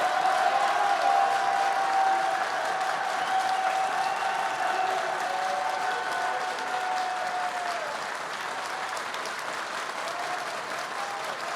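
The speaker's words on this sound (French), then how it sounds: "applaudissez." Steady, even applause from an audience at the final of a masters of ceremonies eloquence contest in Paris, a dense wash of clapping sustained throughout with faint tonal sounds underneath.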